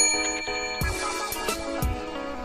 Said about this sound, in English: Jesus Christ, let me reach over and ring my bell on this leather fucking apparatus